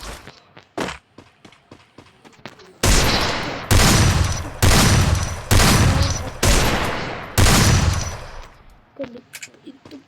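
Video game gunfire from headshots rings out as a string of loud, close bursts, six or so heavy shots in a steady rhythm after scattered lighter clicks and taps, with no talk over it.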